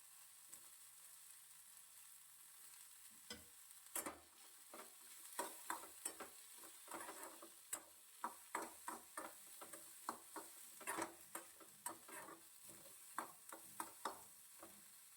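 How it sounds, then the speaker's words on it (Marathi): Chopped onion roasts with a little garlic and ginger in a pan, sizzling softly while a spoon stirs and scrapes in irregular, sharp strokes, close up and with no voices. "ते कांदा भाजतानाच त्याच्यात थोडंसं लसण आणि अद्रक पण"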